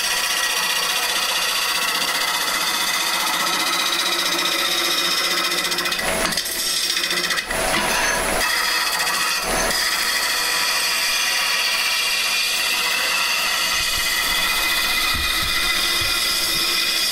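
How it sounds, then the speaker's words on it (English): A wood lathe runs steadily while a turner trues up a lamp base blank, a continuous close motor hum with a few brief sharper bursts of tool contact on the wood. "be careful that you don't push too hard on the wood"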